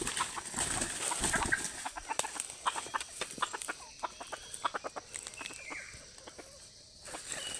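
A captured labuyo, a red junglefowl rooster, gives close clucks and scattered short calls over rustling and handling noise, the calls thinning toward the end.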